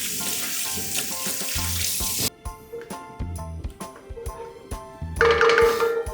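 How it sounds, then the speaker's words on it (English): A stick of butter melts in a pan with a steady sizzle and crackle that runs throughout, alongside faint ringing tonal sounds, with no one talking. "add 1 stick of butter into a pan. There you go. And you just let that melt"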